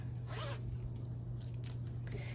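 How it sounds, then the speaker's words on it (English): A metal zipper on a sewn fabric pouch is pulled open in a few quick, close, scratchy rasps over a quiet background hum. "So we're going to open our zipper up."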